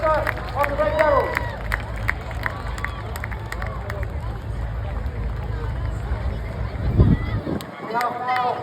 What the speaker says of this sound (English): a huge cheer for Corporal Freight Showmaster on the Red Devils